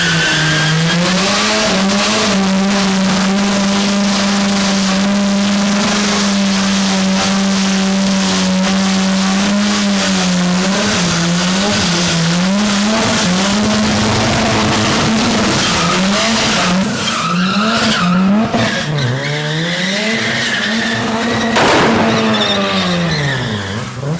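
A rotary-engined car screams at high revs for a long, loud stretch, its pitch holding and then wavering and surging as the tires break loose and skid.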